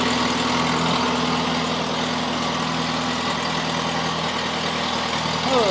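A 1974 Volkswagen Super Beetle engine idles at a steady, even rumble, close and continuous throughout with no voices.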